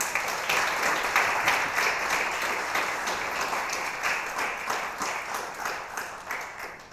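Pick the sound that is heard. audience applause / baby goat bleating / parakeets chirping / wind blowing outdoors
audience applause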